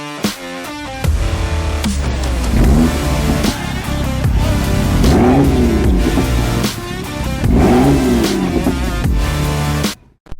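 Audi RS7 super saloon with a Revo Stage 2 remap and Milltek exhaust accelerating hard, engine roaring loud and close through rising revs and gear changes for about nine seconds before cutting off abruptly.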